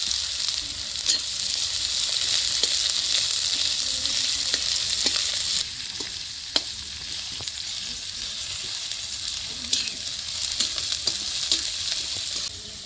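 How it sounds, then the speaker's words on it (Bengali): Onion, garlic and green chilies frying in a pan, a bright steady sizzle with repeated stirring scrapes and clicks, close and continuous, no talking. "পেঁয়াজ রসুন কাঁচা লঙ্কা আমি ভালো করে ভেজে নিছি।"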